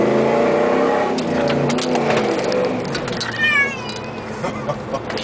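A cat meows and yowls loudly and repeatedly inside a moving Jeep with a 5.9 engine, its drawn-out cries rising over a steady low engine drone, close to the listener.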